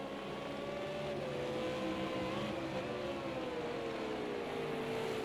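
V8 Supercars race cars running through turns, heard as a faint, steady engine whine with slowly shifting pitch, distant and continuous throughout.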